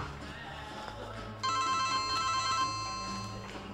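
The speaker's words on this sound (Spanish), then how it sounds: "Teléfono, suena." A telephone rings in a TV drama, a bright electronic tone that starts abruptly partway through and keeps going. It is heard close by over a low background rumble.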